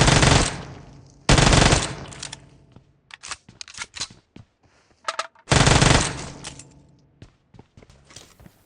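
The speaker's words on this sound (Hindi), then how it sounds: "सामने कोई एनिमी मुझ पे फायर करता है" Gunfire in the PUBG video game: three loud, long bursts of rapid automatic fire, separated by clusters of shorter, quieter shots and clicks, with no talking.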